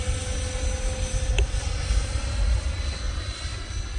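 A Freewing F-14 Tomcat RC jet with 80mm fans flies overhead, a steady, fairly loud engine roar that holds for several seconds, with no talk.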